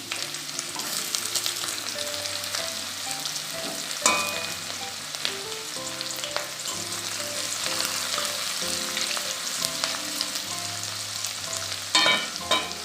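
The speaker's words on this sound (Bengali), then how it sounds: "এবার পেঁয়াজ কুচি দিয়ে দিচ্ছি।" Steady loud sizzling of chopped onion frying in hot oil, with occasional stirring clatter and a few sharp pops throughout.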